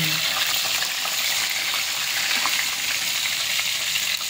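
Daing na bangus, dried marinated milkfish, frying in a pan with a steady, bright sizzle of hot oil that stays loud and close throughout, no talking over it.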